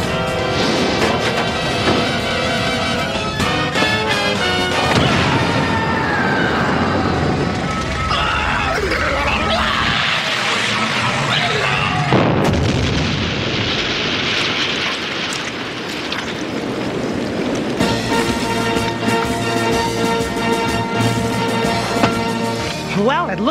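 A triple explosive charge goes off in a cartoon, a loud broad blast and roaring rumble mixed with crashing effects and music, with voices talking over parts of it.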